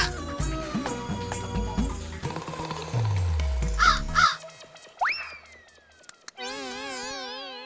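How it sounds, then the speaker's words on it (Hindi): Crows caw a few times against a busy street scene in a comedy show, with music and cartoonish sound effects, including a sliding boing and a warbling tone, filling the latter half. "बेशरम कौवे"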